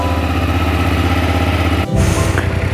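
BMW motorcycle idling right after a cold start, a steady close-up thrumming pulse that holds evenly, then dips briefly before the idle carries on.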